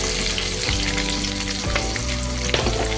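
Chopped onion frying with garlic in hot oil, a loud, dense close-up sizzle with stirring clatter running steadily throughout, no voices.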